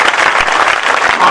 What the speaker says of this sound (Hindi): ताली बजाओ यार, कितनी मेहनत हुई होगी।